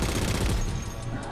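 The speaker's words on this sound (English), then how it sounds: "just start firing the 50 cal" Heavy .50 cal machine gun fire in the Halo 4 campaign, a dense continuous burst of gunfire lasting the whole moment, loud and close with a thick low boom under it.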